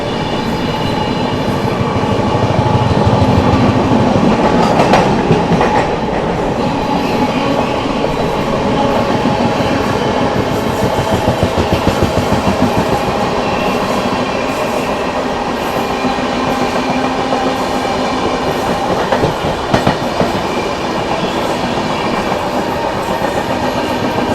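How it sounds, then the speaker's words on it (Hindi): Anand Vihar Terminal–Puri Purushottam Express overtaking on the adjacent track, heard from inside a moving train: a loud, steady rail roar with rhythmic clickety-clack of wheels running throughout, with no talk. "यहाँ पर अपने से आगे निकलती हुई आनंद विहार टर्मिनल पुरी पुरुषोत्तम एक्सप्रेस"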